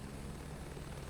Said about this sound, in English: Flying the helicopter is actually quite fun.